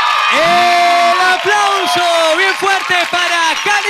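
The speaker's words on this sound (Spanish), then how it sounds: "El aplauso bien fuerte para Calibú, la potencia" A television studio audience whoops and cheers loudly and continuously, with shouting voices and swelling crowd noise at close range.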